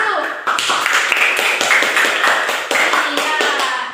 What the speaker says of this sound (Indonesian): Coba semuanya tepuk tangan dulu.